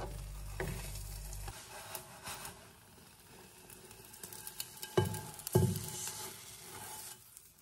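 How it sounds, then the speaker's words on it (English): Two eggs seasoned with salt, pepper and milk cook in butter in a pan, giving a soft, steady sizzle with scraping and stirring strokes throughout and a few louder knocks near the end. "The butter is in, and to that I'm just adding two eggs with just a little bit of salt, pepper, and milk."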